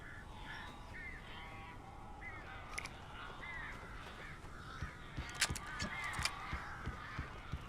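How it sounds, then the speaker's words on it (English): Crows caw in the Alan Wake video game, repeated harsh calls that come in a loose rhythm over a low ambient background, with a few sharper bursts and flutters toward the end. "These birds are weird."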